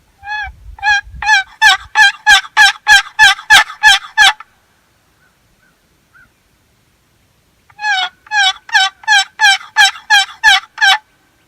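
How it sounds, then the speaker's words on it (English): Two runs of loud, rapid, rasping yelps from a wooden box turkey call, about a dozen strokes each, separated by a few seconds of near silence. "The other one that I use is a regular box call."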